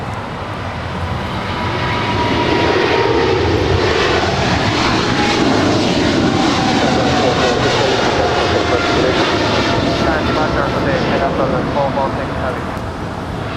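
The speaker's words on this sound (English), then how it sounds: "This is China Southern Cargo 446 departing to Shanghai on a 777 freighter." A China Southern Cargo Boeing 777 freighter departs LAX with a loud, sustained jet engine roar that swells after the first couple of seconds and stays steady, with talk in the background.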